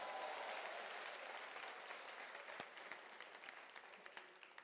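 Graduates at a UNISA autumn graduation ceremony applaud themselves, a dense roar of clapping that starts loud and gradually thins and fades into scattered individual claps.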